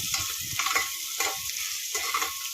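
Cumin seeds with curry leaves being stirred and roasted in a pan, a steady sizzle broken by several scraping stirring strokes, close and moderately loud with no talking.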